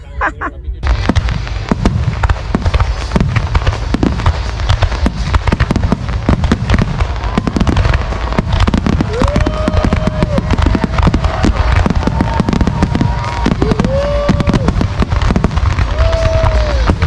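A 4th of July fireworks display in the USA: dense, continuous crackling and booming bursts fill the whole stretch, with several rising whistles of rockets climbing near the end and people's voices mixed in underneath.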